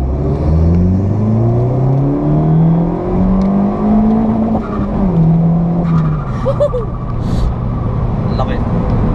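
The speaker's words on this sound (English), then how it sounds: "Pretty much made the turbo flutter sound." A Vauxhall Corsa VXR accelerates hard, its engine note climbing through the revs with a brief drop where turbo flutter fits. The loud, close engine drone is joined by speech.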